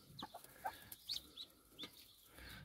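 Young mulard ducklings peep and chirp from a bucket as they are picked out, several short high calls scattered over soft background handling noise, fairly close but quiet.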